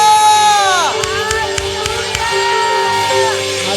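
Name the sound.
church congregation shouting hallelujah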